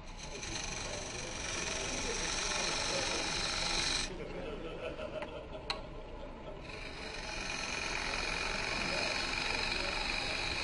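A skew chisel cutting wet wood on a lathe while turning a goblet, a continuous whirring, hissing cut with a brief easing midway before the steady shaving resumes, close and fairly loud.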